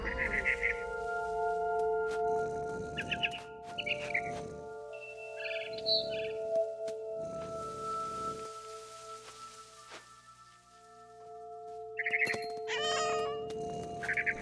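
A cat meows repeatedly in the video game What Remains of Edith Finch, several separate cries with pauses between them, mixed with other game sounds and a steady tonal background.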